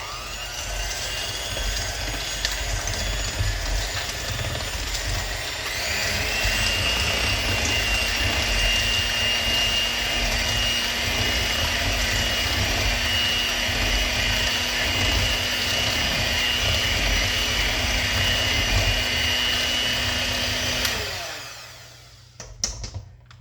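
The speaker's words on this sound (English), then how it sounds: "So I'm just going to give that a quick mix." An electric mixer whirs steadily while quickly blending vanilla and vegetable oil for a gluten-free peach cheesecake loaf batter. A loud, continuous motor whine holds for about twenty seconds, then cuts off, followed by a few faint clatters.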